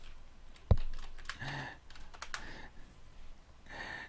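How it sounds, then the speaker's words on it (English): Scattered keystrokes on a computer keyboard, irregular taps with a sharper knock near the start, close by and fairly quiet. "while he is typing"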